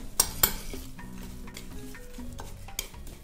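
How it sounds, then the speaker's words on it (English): Dried apricots and cherries stirred together with a spoon in a bowl for chewy granola bars: two bright clinks up front, then close, steady scraping and rustling strokes with faint knocks. "I'm just gonna mix it up with a spoon"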